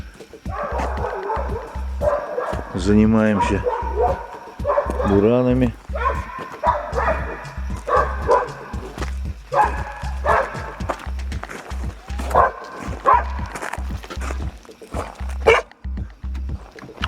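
Hunting dogs bark loudly and repeatedly nearby at a trapper's camp, with excited yips and whines, while a person speaks in Russian between and over the barking.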